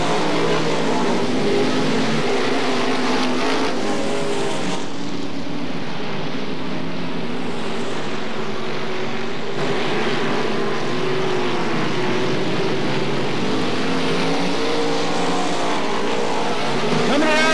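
Race cars roaring around the dirt track at Gallatin Speedway, a continuous loud engine drone from several cars passing, with a brief dip in the middle and a commentator talking over it.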